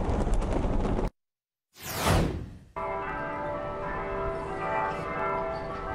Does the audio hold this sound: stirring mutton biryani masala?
no